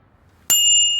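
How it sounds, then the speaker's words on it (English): A bicycle bell in a bike shop gives a single bright ding that rings on with a clear sustained tone after a quiet start. "Oh, it rang its bell for me."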